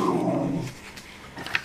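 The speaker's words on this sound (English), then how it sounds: "that's the growling dog at the door" A dog growls at a door, a low rumbling snarl through the first half-second that fades into quiet room tone, ending with a faint higher yip or whine near the close.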